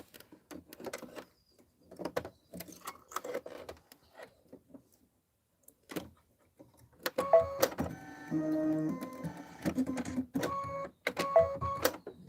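An embroidery machine stitching a tiled bench pillow design gives a quiet intermittent mechanical whir and tapping, then a louder stretch of steady buzzing with tonal hums and clicks.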